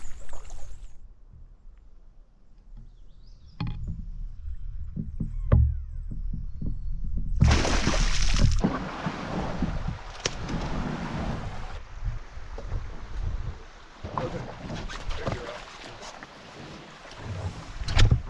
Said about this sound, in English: we're just paddling up through the narrow section and up to the start of the hike